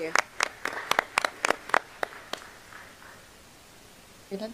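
Brief scattered clapping from an audience at a school board meeting, a dozen or so sharp claps that thin out and fade into quiet room noise.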